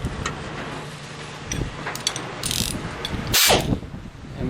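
Tightening a bolt on a Typhoon Tilter wind turbine during assembly, with a steady run of small mechanical ratcheting clicks and metallic ticks, close and moderately loud, plus a sharper clatter near the end.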